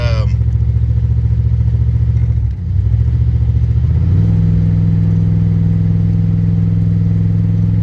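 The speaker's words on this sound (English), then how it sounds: "It ain't no fast car. It's taking forever to shift." The engine of a 1997 Dodge Ram pickup pulls steadily and loudly under acceleration, with a brief dip before it picks up again into a sustained, even drone. The truck is old and slow to shift.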